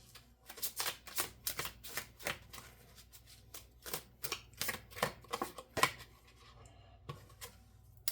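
Oracle cards are shuffled by hand in a quiet room, giving close, soft papery riffles and slaps in an uneven rhythm of repeated bursts.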